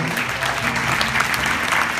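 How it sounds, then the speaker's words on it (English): An audience at a religious gathering claps together in a dense, steady burst of applause that fills the room without pause, loud and continuous. "Clap your hands to the name of"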